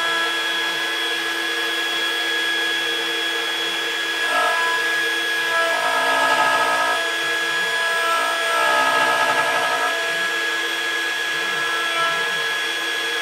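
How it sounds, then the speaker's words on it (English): A steady machine whine with shifting tones as a CNC router's V bit carves a plaque, loud and continuous, with no voices. "I like the way that the V carve or the V bit does its carving"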